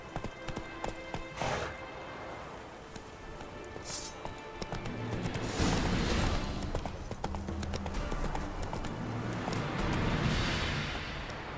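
Hooves of the horse Roach clip-clop in a quick galloping rhythm across ground in The Witcher 3, loud and close, with a brief whinny and a rushing of movement as the pace builds.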